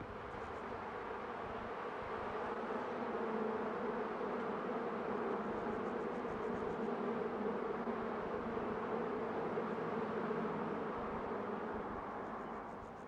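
A continuous low drone of many bees buzzing in a nest inside a door, steady and close, swelling slightly in the middle with no other sounds.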